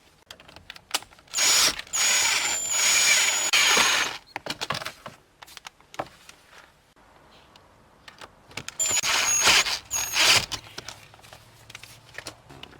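Screws being tightened on the ground wires of a car stereo in a Nissan Sentra, heard as bursts of ratcheting, whirring tool noise separated by quieter pauses of small handling clicks, close by, with no talking.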